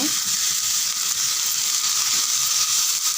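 Broad beans (avarai) sauté in a hot pan with a steady, close hissing sizzle that continues evenly throughout, with no voices.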